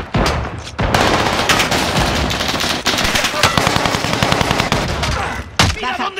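Dense, near-continuous machine-gun fire and rapid gunshots from a multiplayer shooter video game, loud bursts stacked over each other for several seconds with brief gaps, no talk.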